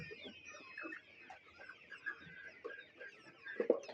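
Desi hens cluck softly in scattered bursts, a few birds calling close by with quiet gaps between clucks.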